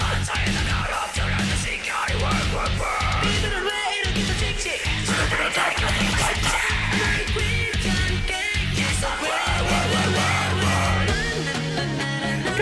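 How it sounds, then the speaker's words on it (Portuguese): A harsh metal vocal scream rises out of a heavy metal cover of a pop song, loud and sustained over distorted guitars, pounding drums and double-kick bass. "Lá vem o meu grito."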